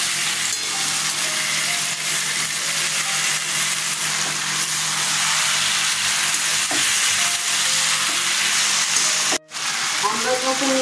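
Potatoes dropped into hot oil with a paste of turmeric, cumin and coriander powder for a papaya and potato curry, giving a loud, continuous close sizzle with stirring scrapes and a brief break near the end.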